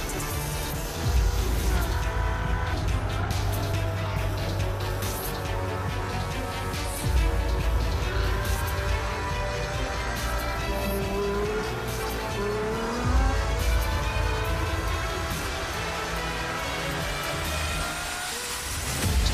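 Ferrari hybrid race car powertrain in a sim racing game, a continuous high engine drone rising and falling with gear changes and tire squeal, loud and close throughout.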